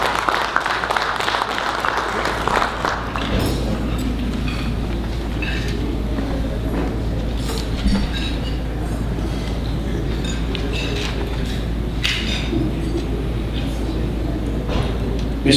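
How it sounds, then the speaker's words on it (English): An audience at a FICCI general membership meeting breaks into sustained applause, a dense, even wash of many clapping hands that carries on steadily under a low hum. "please let us all give a round of applause"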